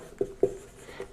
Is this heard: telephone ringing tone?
no